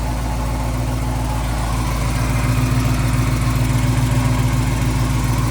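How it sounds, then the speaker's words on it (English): A 1969 Buick Special Deluxe engine idles on a cold start, its steady low rumble carrying a fast, even ticking from a noisy lifter. Close and constant, with no talk. "Got a lifter making noise somewhere over here."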